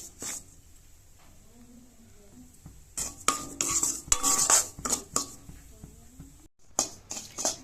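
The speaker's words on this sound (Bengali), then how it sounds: "সুজিটা ভাজা করতে গেলে একেবারে নাড়া বন্ধ করা যাবে না, একভাবেই নাড়তে হবে" Semolina being stirred as it dry-fries in a pan, with a utensil scraping and clinking against the metal in irregular bursts that grow louder and busier midway, close and with no talk.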